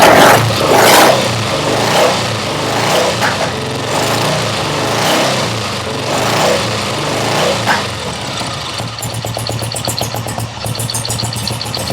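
A Firebird car engine runs steadily at idle without knocking, a continuous low rumble with some rattling and ticking, close by and fairly loud throughout.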